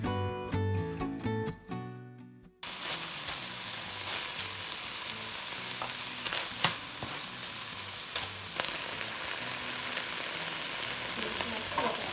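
Sugar caramelizing in a teaspoon of hot oil in a pan for beef and broccoli, a steady loud sizzle and crackle that fills the clip after a brief music intro, with occasional stirring scrapes.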